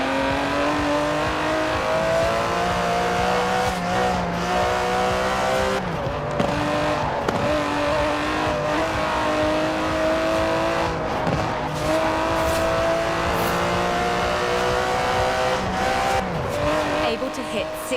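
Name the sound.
Aston Martin DB11 twin-turbo V12 engine in Forza Horizon 4 video game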